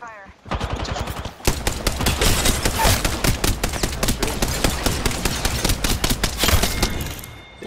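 Rapid automatic gunfire in the video game Apex Legends, loud dense bursts of shots rattling almost continuously after a brief quiet opening, with short pauses between volleys.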